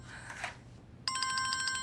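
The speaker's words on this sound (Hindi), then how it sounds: "हर फोन की घंटी पे दिल धड़कने लगता है फरीदे।" A telephone rings with a bright, rapidly trilling electronic bell that starts suddenly and continues steadily after some quieter background sound.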